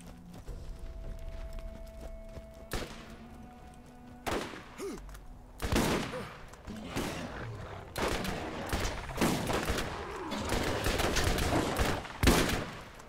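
Gunfire in the co-op shooter Borderlands, with bursts of rapid shots and sharp single cracks starting a few seconds in, growing denser and louder toward the end against a faint game background.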